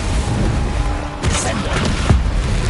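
A Bombarda spell detonates in Hogwarts Legacy, a short heavy blast rising out of dense, continuous combat noise, with a second, softer thump shortly after.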